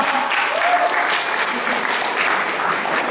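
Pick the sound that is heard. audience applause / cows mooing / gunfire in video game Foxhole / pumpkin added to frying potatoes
audience applause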